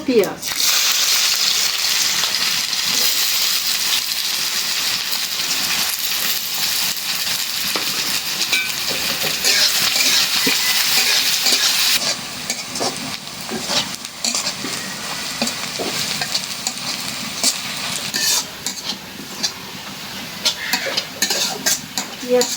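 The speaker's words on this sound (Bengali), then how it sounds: "একদম ভালো করে নেড়ে সেটা একদম বেরেস্তার মতো ভাইজে নিলাম মাছগুলো" Small fish stir-fried in a pan make a loud, continuous sizzle with busy scraping and stirring. The frying settles a little in the second half and stays close throughout, with no clear talk over it.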